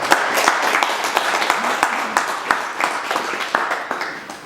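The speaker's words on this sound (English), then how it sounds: "let's give Andy a round of applause." An audience at a meeting gives a round of applause, with dense, crisp hand claps and sharp individual smacks standing out. It stays fairly loud and close throughout, with some voices mixed faintly underneath.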